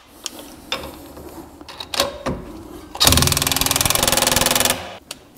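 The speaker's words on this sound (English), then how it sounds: "Now I'm gonna use an impact gun to do this." An impact gun drives a wheel stud into a hub: a few scattered clanks lead into a loud, close, rapid hammering burst lasting under two seconds, followed by light knocks.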